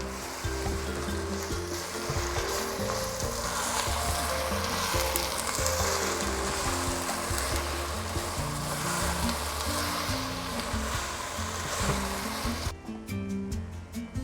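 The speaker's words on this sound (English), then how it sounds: "The masala has been frying for about 10 minutes on very low." Masala for sorpotel frying in a pot over very low heat gives a steady, continuous sizzle and crackle over low background music.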